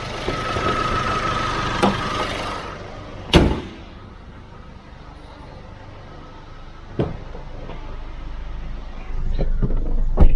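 A Nissan Navara D40 diesel engine idling steadily nearby, broken by a few sharp door thuds and clunks, with the engine note swelling slightly near the end.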